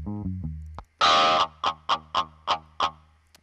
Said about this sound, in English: this distortion here